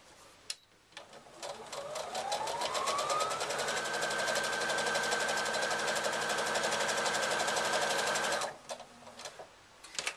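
A sewing machine top stitches a fabric handle on a reversible handbag, starting slowly and speeding up into a fast, steady mechanical whir for about seven seconds before stopping, heard close and alone.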